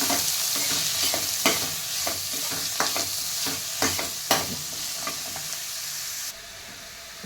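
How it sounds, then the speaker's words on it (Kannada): Onions frying in ghee and oil sizzle steadily up close, with sharp spatula scrapes and stirring taps at irregular intervals. The sizzle drops a little toward the end. "ಈರುಳ್ಳಿನ ಗೋಲ್ಡನ್ ಕಲರ್ ಆಗೋ ತನಕ ಫ್ರೈ ಮಾಡ್ಕೊಳ್ತೀನಿ"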